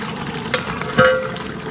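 Tadka tempering sizzles in a cooking pot where spices, chicken and rice are being cooked, a steady crackling hiss of hot oil with a brief louder stir-like burst midway, no talking.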